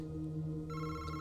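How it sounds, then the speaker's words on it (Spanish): Telephone ringing in the horror video game August Night, a sustained electronic ring that holds steady and brightens partway through, loud and alone over a low background hum. "Suena el teléfono."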